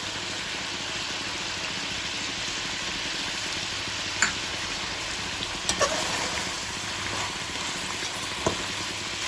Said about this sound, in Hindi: इसे भी 2 मिनट के लिए फ्राई करेंगे अच्छी तरह गोश्त के साथ